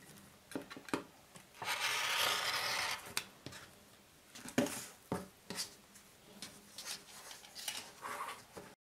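Fabric strips are cut for a nine-patch quilt, giving a series of close rubbing, scraping cuts with a longer rough swipe early on and scattered soft clicks and taps of handling between them.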